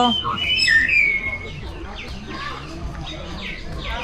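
A myna bird gives bright, whistling calls and chattery notes up close at Safari Park Gazipur, Bangladesh, with quieter chirps trailing off, and no one speaking.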